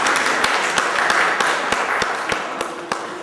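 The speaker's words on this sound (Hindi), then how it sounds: "इस बात पर तो तालियां बजनी चाहिए।" Audience clapping at a Hindi poetry book launch, a steady wash of applause with sharper individual claps standing out, fairly close and sustained for a few seconds without talk.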